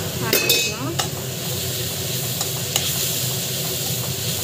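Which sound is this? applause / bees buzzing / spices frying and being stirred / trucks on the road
spices frying and being stirred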